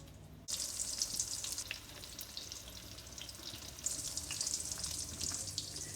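Battered orange chicken pieces fry in a crowded pan, a steady bright sizzle and crackle running throughout after a brief quiet start, close and fairly loud.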